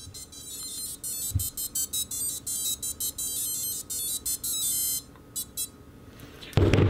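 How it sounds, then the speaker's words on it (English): BLHeli_S electronic speed controller plays its startup melody: a rapid run of short, high-pitched electronic beeps in a tune-like pattern, clear and close, followed by a brief pause and a soft thump at the end. "how you can set up the startup melody"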